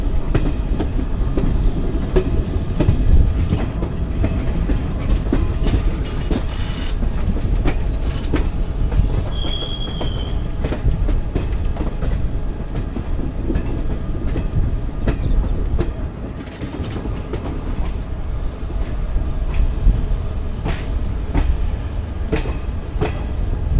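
A passenger train runs steadily on rails near Banaswadi station, its wheels giving a continuous, even rumble with faint clicks and a few brief squeals, heard from inside with no talk.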